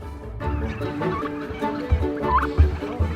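Turkeys on a turkey farm gobbling and clucking, several birds calling in overlapping bursts close by, with sharp louder calls near the end.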